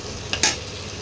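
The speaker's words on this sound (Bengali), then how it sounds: "এবারে আমি 1 চামচ রসুন বাটা, 1 চামচ আদা বাটা, এবার এটাকে কষাতে হবে।" Garlic and ginger paste is stirred with onions in a hot pan, giving a steady close sizzle with a couple of brief scraping stirs of the spoon.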